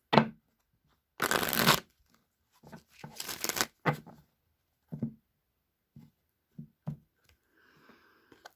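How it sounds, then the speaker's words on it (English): Bursts of a Rider-Waite tarot deck being shuffled, a few long riffling passes followed by short taps and flicks of cards, close and quiet with pauses between. "one more shuffle, and then I'm going to cut the deck and draw 3 cards"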